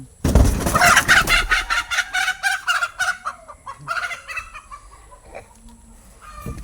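Hen clucking beside her nest where she laid eggs, a close, loud run of rhythmic clucks and cackles that slows and fades over several seconds.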